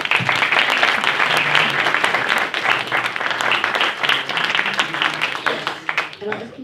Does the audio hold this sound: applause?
yes